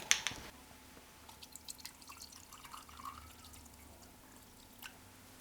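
A ginger lemon tea bag dipped into water, giving a few small, quiet drips and trickles close by, with a sharp splash at the start and another faint drip near the end.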